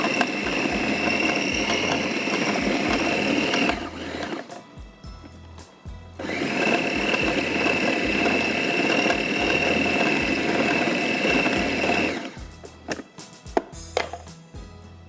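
A grinder runs loud and steady, crushing a kebab mixture of egg, bread slices, ginger and garlic, cutting out for about two seconds in the middle, restarting, and then stopping near the end.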